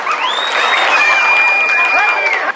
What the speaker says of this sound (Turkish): Şöyle güçlü bir alkış gelsin efendim,